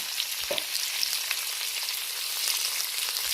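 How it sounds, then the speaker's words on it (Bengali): Potato pieces frying in oil with salt and turmeric, a steady, dense hiss of sizzling with occasional faint stirring clicks, close and continuous throughout. "লবণ হলুদ দিয়ে আলুটা ভেজে নেব।"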